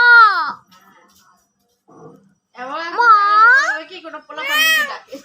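A pet parrot imitates a cat's meow, giving several drawn-out, whiny mewing calls close to the microphone, separated by short pauses and faint murmurs.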